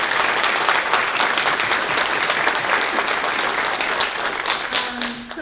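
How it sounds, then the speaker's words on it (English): A large audience at a women-in-construction symposium gives a big round of applause for moderator Tracy. The applause is loud, dense and sustained, then thins and fades near the end. "So a big round of applause for Tracy."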